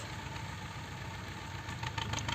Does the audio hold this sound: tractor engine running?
yes